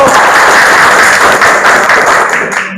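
Classroom audience at a mathematics teacher-training performance exam claps steadily for just under three seconds, a dense, loud wash of hands that cuts off abruptly at the end.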